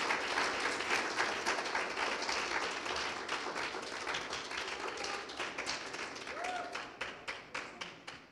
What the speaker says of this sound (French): on va applaudir le Seigneur, on va bénir le Seigneur pour la vie de prophète Henrik